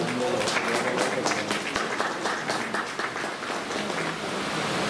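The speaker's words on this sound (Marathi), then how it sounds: "सर्वांनी जोरदार टाळ्या वाजवायच्या." Loud, sustained applause from an audience at a Rotary Peace Harmony Center inauguration function, a dense, steady clapping roar filling the room for several seconds with a faint murmur of voices beneath.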